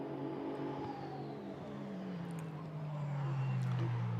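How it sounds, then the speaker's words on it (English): KTM GT2 race car pulling out of the pits at Monza, its engine note rising and then falling as it accelerates away, fairly faint and distant beneath a trackside broadcast mix. "the KTM only now just leaving the pits with Reinhard Koffler at the wheel"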